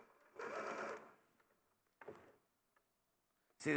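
A domestic sewing machine stitching a quarter-inch seam in fabric runs in a short burst, pauses, then gives a brief second run, with faint ticks between and a new start at the very end.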